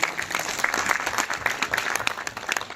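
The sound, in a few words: audience applause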